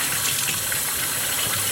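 Tap water gushes steadily over a bleached tie-dye shirt being rinsed in a sink, a continuous close, loud splashing flow with no talking.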